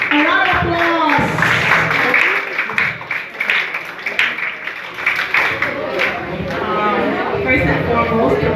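A classroom audience at a debate breaks into applause, a dense patter of hand clapping that rises, dips, then swells again, with voices calling out through it.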